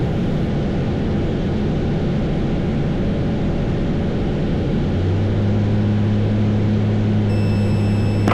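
Slingsby T67M260 light aircraft on final approach to runway 25, its piston engine a steady, loud, close drone filling the cabin throughout, with a low tone settling in partway through and no talk over it.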